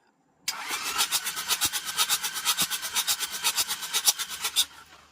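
A Toyota Dyna 130 four-cylinder diesel truck engine starts up and settles into a rough, rhythmic chugging with pulsing knocks, loud and close, continuing steadily for several seconds with no talk.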